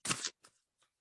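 Tarot cards are shuffled in three quick bursts, one loud riffle followed by two softer, shorter ones, with nothing else around them.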